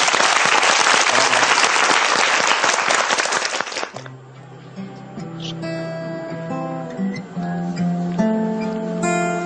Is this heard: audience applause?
yes